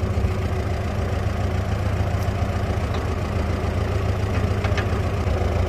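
An old Farmall H tractor engine runs steadily nearby, a loud low chugging drone that never lets up, with faint ticks riding on top.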